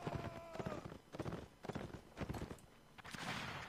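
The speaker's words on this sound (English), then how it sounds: "He hops on a spare horse." Horse hooves clip-clop in quick irregular beats during a Napoleonic Wars line battle event in the game, fairly faint and busy, with scattered sharper knocks and a brief swell of noise near the end.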